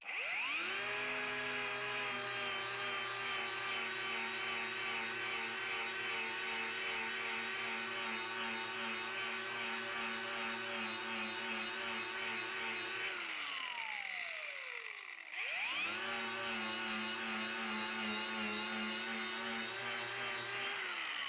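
A power tool fitted with a soft black strip disc sands varnish off wood, giving a loud, steady high whine. Midway the motor spins down and stops, then revs back up to the same steady whine.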